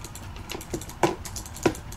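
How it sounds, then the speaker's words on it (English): Rapid mouse clicking during a Minecraft game, several sharp irregular clicks close to the microphone, heard alone with no talk. "I hear a lot of clicking from your end"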